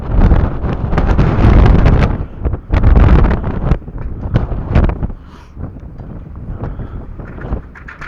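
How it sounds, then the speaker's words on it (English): Strong outdoor wind, about 30 miles an hour, at a farm equipment auction buffets the microphone in loud, rough gusts, heaviest early, then easing into lighter rumbling bursts. "There's a 30-mile-an-hour wind out here, so I can't help that."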